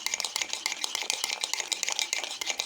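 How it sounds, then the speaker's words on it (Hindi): Coffee mixed with a tablespoon of hot water is stirred briskly in a cup, giving fast, rhythmic scraping and light clinking strokes, close and fairly quiet. "1 टेबलस्पून इसमें हॉट वाटर ऐड करेंगे और इसको साथ साथ अच्छी तरह मिक्स करते जाएंगे"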